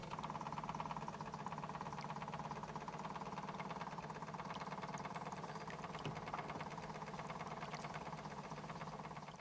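A small gas burner on an old model steam boat in poor condition, tested with its cut-off, gives a steady mechanical hum and rattle that holds evenly throughout, with a faint click partway through.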